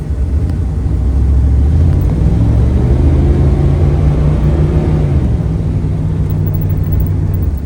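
An old pickup truck, a family hand-me-down, driving along with a steady low engine rumble and road drone that holds loud and close throughout, rising slightly in pitch midway as it accelerates.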